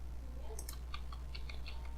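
A computer keyboard being typed on during a Linux install, quiet scattered key clicks in short irregular bursts over a steady low hum.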